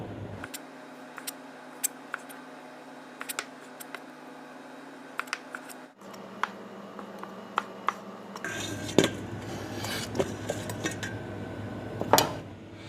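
Knife cutting the ends off okra (lady finger) on a board while making a Bangla vendi vorta, heard as light, irregular taps and clicks, close and fairly faint, with no talking.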